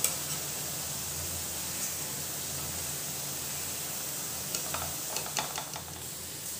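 Murungai keerai (drumstick leaf) pakoda frying in hot oil, a steady soft sizzle throughout with a few brief crackles and pops near the end, no talking.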